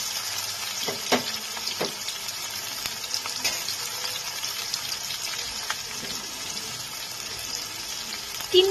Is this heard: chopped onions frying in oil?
yes